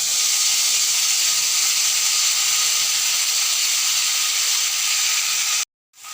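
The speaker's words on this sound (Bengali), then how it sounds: "তেলটা গরম হয়ে গেছে এবার দিয়ে দেব বেটে রাখা কাঁচা লঙ্কা এবং সর্ষে" Ground green chili and mustard paste hits hot oil with a loud, continuous close hiss and sizzle that holds steady, then cuts off abruptly near the end.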